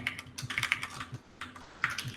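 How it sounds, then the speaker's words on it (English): Clacky computer keyboard typing, a rapid run of sharp plastic keystrokes with a few louder key hits and brief pauses, close and alone with no voice. "I'm so sorry for the clacky keyboard."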